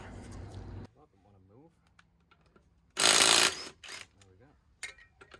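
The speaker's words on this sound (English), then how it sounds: "we're going to crack the locking nut with a bar and then whiz the other bolts out with a gun" An impact gun spins wheel bolts off a Vauxhall Corsa D VXR, one loud rattling burst of about half a second, then quieter ratchety clicks and handling noises, with someone talking around it.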